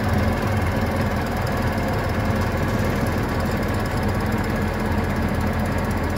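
Engine idling with the PTO engaged, a steady loud rumble that holds unchanged throughout with no talking.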